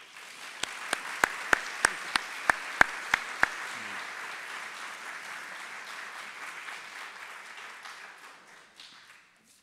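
An audience at an alumni reunion program applauds to congratulate Elsa, a warm, steady wash of clapping with a few sharp nearby claps at the start, fading out gradually.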